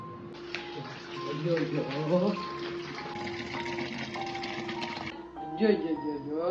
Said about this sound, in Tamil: எம்பூட்டு தண்ணியை வீணாடிச்சிட்டு இருக்கு அந்த புள்ள